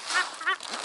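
Two or three nasal honking quacks follow one another quickly, loud and close, with nothing else in the background.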